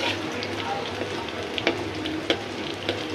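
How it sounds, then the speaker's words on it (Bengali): Lentil fritters (bora) sizzle steadily in hot oil, frying until red and crisp, with a dense continuous crackle and a few sharper pops rising above it. "আমাদের এই যে মশমশা করে খুব সুন্দর করে বড়াটি লাল লাল করে ভাজি"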